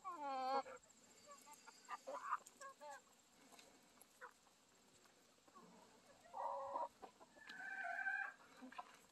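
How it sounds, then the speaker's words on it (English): Orpington chickens at a coop, with repeated clucks and squawks, a crowing rooster and other bird calls, moderately close with quiet gaps between bursts. "The Orpingtons are a nice bird."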